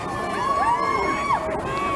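Crowd at a street protest cheers and yells continuously, a dense mass of voices close by with whoops and shouts rising over the din.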